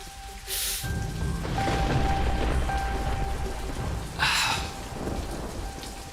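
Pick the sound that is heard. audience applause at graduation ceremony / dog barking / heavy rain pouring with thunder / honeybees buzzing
heavy rain pouring with thunder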